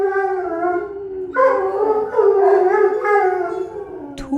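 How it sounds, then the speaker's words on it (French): Neighbourhood dogs howl at night: a long, steady howl, with a second voice joining partway for a wavering chorus. A brief sharp yip comes near the end, and no barking stands out. "Tous les chiens du quartier qui commencent à ululer"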